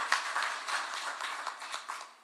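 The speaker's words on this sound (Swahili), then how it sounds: "Wapi makofi ya rais pale?" Crowd applause at an ODM political rally in Malaba, a burst of close, fairly dense clapping that gradually thins out.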